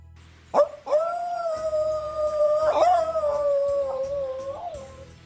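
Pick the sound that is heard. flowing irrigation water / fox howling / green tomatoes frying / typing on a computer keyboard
fox howling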